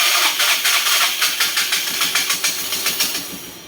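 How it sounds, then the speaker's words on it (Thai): A Yamaha Fino scooter engine runs with the choke pulled just after starting, chugging loud and close in a steady, slightly uneven rapid rhythm that fades a little toward the end. "แล้วก็มาสตาร์ทแล้วก็ดึงโชคนะครับ ดึงโชคสตาร์ท สตาร์ทไปเรื่อยนะครับผม"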